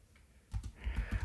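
Soft clicking of typing on a computer keyboard during an online chat, a short quiet run of keystrokes heard alone at close range.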